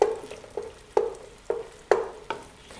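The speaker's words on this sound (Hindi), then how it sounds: "अंडे को हमने यहाँ पर हाफ फ्राई कर लेना है" Two beaten eggs half-frying in melted ghee, with a soft steady sizzle broken by about six sharp scraping stirs at a regular pace, close up and with no voices.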